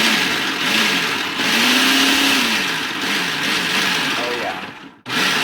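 A kitchen blender whirs steadily as it blends cake mix ingredients until smooth, a loud continuous motor drone with slight shifts in pitch, stopping abruptly near the end.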